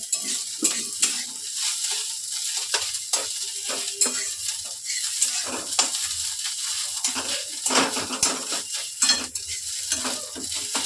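Fish roe frying in hot oil in a pan, giving a steady close crackle and sizzle with scattered spatters and occasional stirring scrapes, no voices.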